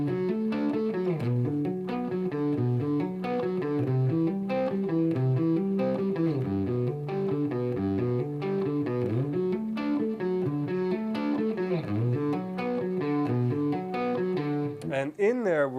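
An electric guitar with a light overdriven tone plays arpeggios at an unhurried pace, using picked notes and hammer-ons, notes rising and falling in clear, repeated patterns.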